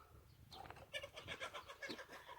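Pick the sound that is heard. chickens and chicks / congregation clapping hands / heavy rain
chickens and chicks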